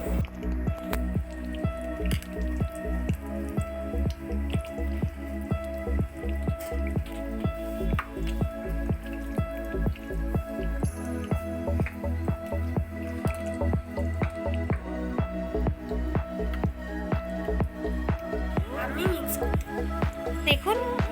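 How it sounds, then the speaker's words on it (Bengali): Wet squishing and dripping from chicken kebab marinade being worked together by hand in a bowl, a steady rhythmic squelch running throughout, close and fairly loud, with background music underneath. "এরপরে আমরা সমস্ত জিনিসগুলোকে একসাথে মিশিয়ে নেব। একটু ভালো করে মেশাতে হবে।"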